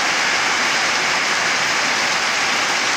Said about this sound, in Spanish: De que está lloviendo fuerte.